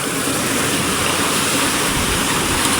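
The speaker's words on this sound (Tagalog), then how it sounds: "biglang lumakas ang panahon. Biglang lumaki ang alon." A steady, loud roar of big Pacific Ocean waves whipped up by suddenly strong weather. The dense wash of surf and wind holds constant for about three seconds, with no voices.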